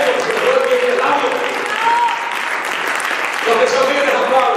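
Congregation applause at a church service, a sustained wash of clapping that swells, dips slightly and swells again, with a voice speaking over it throughout.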